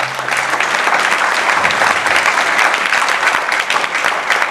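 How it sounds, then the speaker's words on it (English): Steady, dense applause from a gala audience at a Diwali celebration, filling the whole stretch at full level with no talk over it. "So please give them a big round of applause."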